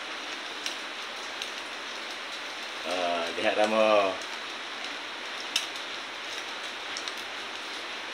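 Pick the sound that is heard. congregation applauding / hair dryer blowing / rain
rain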